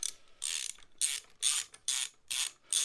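A torque wrench being ratcheted back on a Range Rover steering swivel: five or six close bursts of rapid clicking pawl, each about a third of a second long, separated by short pauses, with no talking.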